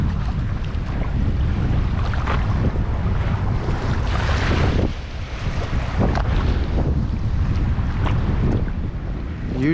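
Strong wind buffets the microphone over open water during inshore wade and kayak fishing at Boca Grande, Florida, a loud continuous roar with gusty surges and a brief lull near the middle.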